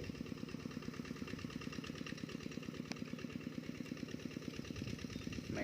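Two-wheel hand tractor engine working a rice field, a faint, steady, rapidly pulsing single-cylinder chug heard from a distance throughout.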